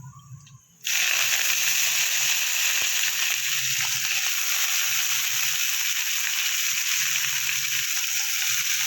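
Chopped bitter greens drop into hot tempering oil with dried chilli and burst into a loud, sudden sizzle that then holds as a steady, close frying hiss.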